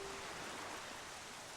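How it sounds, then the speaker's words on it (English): Steady rain hissing down on the cursed island in The Legend of Zelda: The Wind Waker, a soft, even wash of falling water with no breaks, faint and continuous throughout. "this place suffers under dark clouds and rain"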